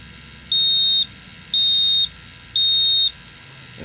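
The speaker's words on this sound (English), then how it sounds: "And there's your 3 beeps. Very similar to like a smoke detector." Three loud, high-pitched electronic beeps from a QRAE 4-gas meter finishing calibration, each about half a second long with short even gaps, like a smoke detector, heard close up.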